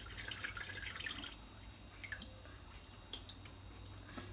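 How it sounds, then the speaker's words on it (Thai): Wild blackberries are washed in water, with soft, faint drips, splashes and squishy handling noises over a quiet background hum. "จะล้างประมาณสัก2น้ำจ้ะ"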